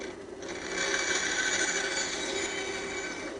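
A bandsaw cuts continuously through a block of wood, producing a steady, close whirring and buzzing hum with no pauses and no voices.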